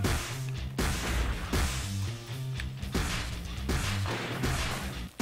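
Repeated missile blasts in the video game Circuit Breakers, loud booming crashes coming about once a second over a constant low droning rumble.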